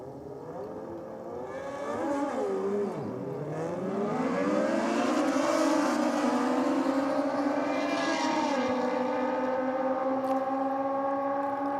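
At a drag racing championship, a Suzuki Hayabusa 1300cc and a Kawasaki 1441 motorcycle scream down the strip. Their loud engine whine dips briefly at a gear change, then climbs and holds high as they pull away.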